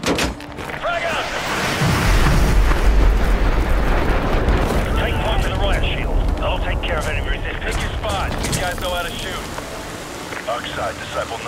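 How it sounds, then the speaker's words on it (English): A frag grenade goes off in Call of Duty Modern Warfare 2 Remastered, a deep booming blast that rolls into a long, dense rumble of debris and gunfire. "Frag out!"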